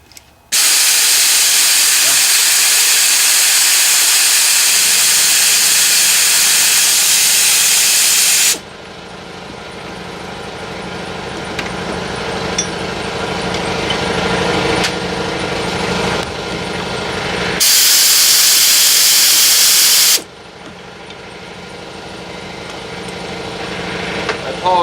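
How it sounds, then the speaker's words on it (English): Air compressor in a workshop during timing set and water pump work on a 1975 Subaru, producing a loud, steady hissing roar that cuts in and out in long stretches, with quieter mechanical noise between. "apologize for the compressor noise"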